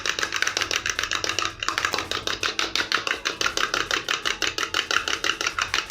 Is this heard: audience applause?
no